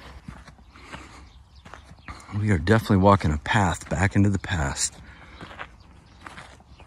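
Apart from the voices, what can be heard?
horses' hooves clip-clopping on a path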